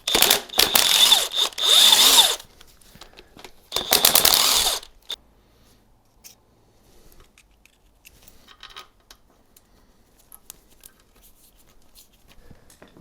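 Power tool snugging bolts and washers on a CAT skid steer engine, several loud whirring bursts with ratcheting in the first few seconds, then faint clinks and handling noise.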